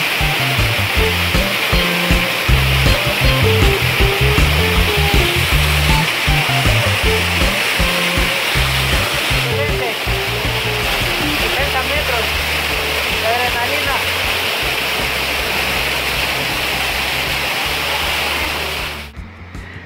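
Jesús María waterfall in Jimbilla, near Loja, Ecuador, about 50 metres high with a strong dry-season flow, a loud, steady roar of falling water heard close up, continuous throughout and cutting off abruptly near the end.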